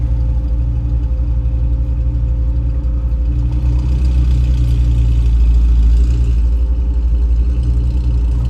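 A McLaren sports car engine rumbles steadily with a deep, continuous drone, swelling slightly in the middle as it passes, heard from inside a vehicle on a road south of Portland, no talking.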